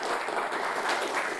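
An audience claps in steady, dense applause that stays level throughout, with no voices over it.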